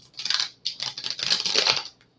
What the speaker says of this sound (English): No, that was a sucky shuffle.